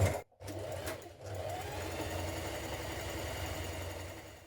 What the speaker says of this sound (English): Now sew the two short edges of your bottom band together with right sides facing.